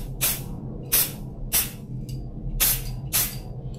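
An AESUB 3D scanning spray can hisses in five short, sharp bursts spaced roughly half a second apart, close and fairly loud over a low background hum.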